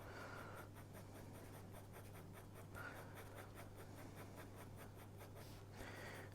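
A hard 4H graphite pencil shades on drawing paper in quick repeated strokes, giving a faint, close scratching rhythm over a steady low hum.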